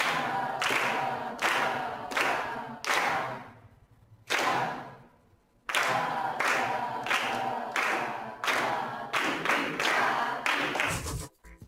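Rhythmic hand clapping in a music exercise: sharp, close claps in steady patterns of single beats and quicker pairs, grouped into phrases separated by brief pauses, with no voices over them.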